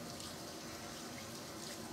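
Tap water running steadily into a sink while washing the face, a constant soft rushing wash with no voices.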